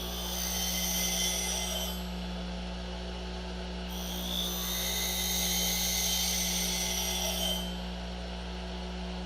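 A woodturning skew chisel is sharpened with light passes on each side against a grinding wheel, giving a steady high grinding whine over a constant motor hum, with a brief pause partway through and no talk.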